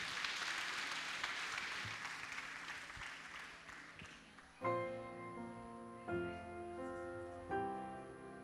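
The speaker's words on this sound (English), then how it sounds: "please give them a big round of applause to our young Highlanders" A school stage-show audience applauds young dance performers in a busy, even wash of clapping, which stops as loud music starts up.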